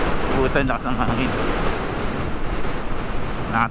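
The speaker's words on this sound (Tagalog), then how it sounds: "si Kit, Makmak, malakas ang hangin ah." Strong wind roars and buffets the microphone continuously in Morong, Bataan, with surf-like rushing and a faint voice briefly audible beneath it.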